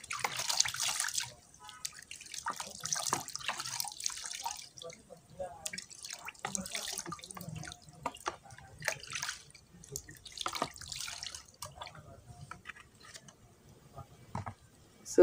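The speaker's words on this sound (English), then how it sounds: "So I'll wash my hands and wash the rod." Running water splashes and drips while hands and a metal rod are washed in Dettol water for mushroom inoculation, an uneven patter of close trickles and drops with brief quiet gaps.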